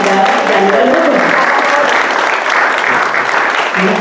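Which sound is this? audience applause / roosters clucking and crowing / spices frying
audience applause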